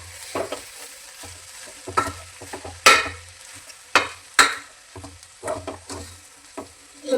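Sambar powder mixed into hot oil is stirred in a pan, soft sizzling punctuated by several sharp scraping strokes of a spoon, close and without speech.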